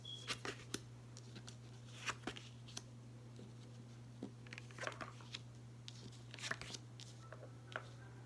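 Tarot cards are shuffled and shifted around, giving soft scattered flicks, slaps and papery rustles over a faint steady hum, quiet and close.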